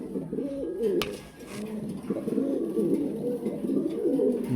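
Domestic pigeons in a farm loft coo continuously, a steady, close, layered murmur of low throaty calls from several birds, with no talk over it.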